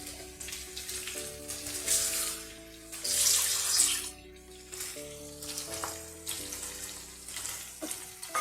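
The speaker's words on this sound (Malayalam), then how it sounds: "ഗ്രേവിക്ക് വേണ്ടിയിട്ടാണ് വെള്ളം ചേർക്കുന്നത്" Water is poured into a pan to make gravy for a cauliflower dish, splashing and running in bursts over a soft sizzle. Background music plays throughout and there is no talk.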